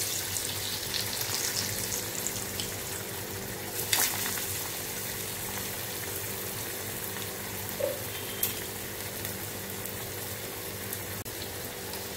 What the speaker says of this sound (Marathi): आता आपलं तेल चांगलं गरम झालं आहे। आता आपण हे असे फ्राय करून घ्यायचे आहेत।